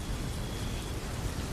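Steady heavy rain pours in an animated Bengali horror cartoon during a storm, a dense continuous hiss with low rumbling underneath, with no voices.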